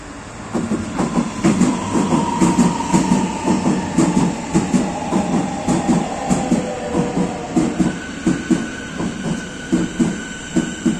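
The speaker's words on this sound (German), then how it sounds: "Gleis 4, Einfahrt, S8, nach Schönemeyer." An S-Bahn S8 train pulls into a platform at Berlin Adlershof, wheels clacking in a steady rhythm over rail joints as it slows, with a sustained metallic squeal and whine, loud and close.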